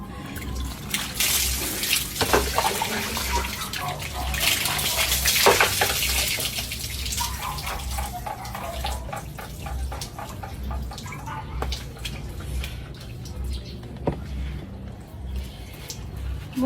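Cold water splashes and drips as it is poured over someone bathing, with uneven bursts of pouring and trickling amid a steady hum, and brief voices in between.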